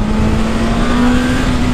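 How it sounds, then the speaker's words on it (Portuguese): Honda CB1000 motorcycle engine held at high revs while the clutch is popped, a loud, steady close-up drone with a sustained tone and no pauses. "Vou dar uma chamada aqui na embreagem."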